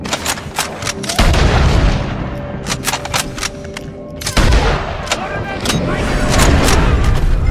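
Gunfire in the Western game Red Dead Redemption 2: repeated loud, sharp shots with booming low-end impacts, two especially heavy blasts among scattered cracks, while someone talks over the action.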